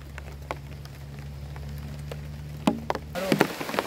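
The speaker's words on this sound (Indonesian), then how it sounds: "Tiba-tiba turun hujan teman-teman." Sudden rain at a solo campsite patters onto surfaces nearby, scattered drops over a low steady hum, then swelling into a heavier, denser downpour at the end.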